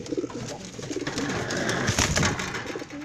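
Stock pigeons kept as breeders coo in soft, throaty rolling bursts, close by and fairly clear, with some background rustle and no one talking.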